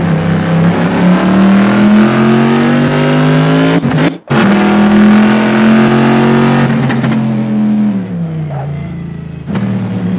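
A modded car engine sound in a video game revs loudly and steadily, pitch rising and falling as it accelerates and shifts, with a brief cut in the middle; no talking.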